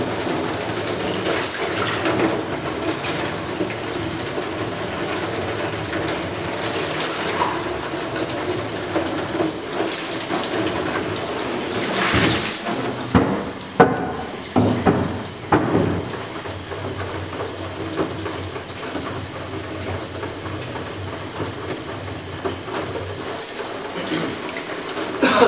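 Running water rinses ink off a printing screen in a sink, a steady broadband splash and gush lasting throughout, with a brief burst of clattering handling partway through.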